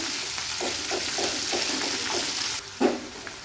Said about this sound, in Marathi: तो देखील तेलावर छान परतून घ्यायचा आहे।